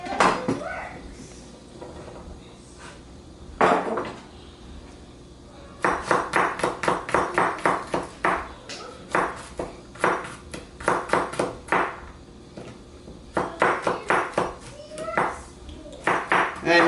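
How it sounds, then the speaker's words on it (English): A kitchen knife chopping garlic on a cutting board for tomato marinara sauce: bursts of quick, crisp rhythmic taps, close and distinct, alternating with quieter pauses, with a brief clatter near the start. "the next thing I'll do is I'll chop up the garlic"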